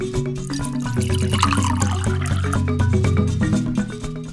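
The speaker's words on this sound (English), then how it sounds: "This drinking bear is an electric automaton. It is covered with a rabbit skin and is poured to drink continuously." Electric drinking bear automaton covered in rabbit skin, liquid being poured for it to drink continuously, with a steady trickling pour running beneath a sustained musical tone throughout.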